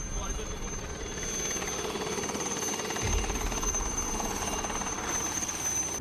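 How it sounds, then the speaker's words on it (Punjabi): An Indian Air Force helicopter makes an emergency landing at a school in Malerkotla, its rotor and engine a steady droning thrum throughout, with a heavier low thump partway, while people talk over it. "ਇੱਕ ਇੰਡੀਅਨ ਏਅਰਫੋਰਸ ਦੇ ਚੋਪਰ ਦੀ ਐਮਰਜੈਂਸੀ ਲੈਂਡਿੰਗ ਹੋ ਰਹੀ ਹੈ ਇੱਕ ਸਕੂਲ ਵਿੱਚ"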